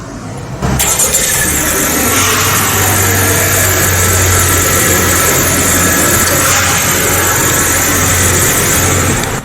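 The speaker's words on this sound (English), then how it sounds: "This Accord comes with a remote engine start as standard." A 2023 Honda Accord 1.5 turbo engine running at a steady idle after a remote start indoors in a building, with a low constant hum and hiss that stays loud and even throughout.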